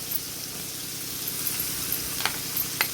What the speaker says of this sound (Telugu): పసుపు, తర్వాత ఆనియన్, ఉల్లిగడ్డలు వేయాలి.